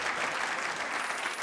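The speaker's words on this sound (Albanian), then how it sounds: "një duartrokitje për Lisën" A school audience gives Lisa a March 7 celebration round of applause: dense, steady clapping from many hands that fills the whole moment without letting up, with no voices standing out.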